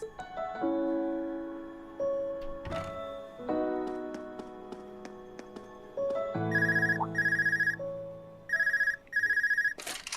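A phone in the Trails of Cold Steel video game rings in repeated bright trilling bursts over soft in-game music and chimes, loud and close, with pauses between rings.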